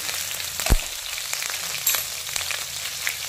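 Grated ginger and chopped green chili frying in hot oil, a steady soft sizzle with a sharp crackling pop near the start and a few smaller spits after.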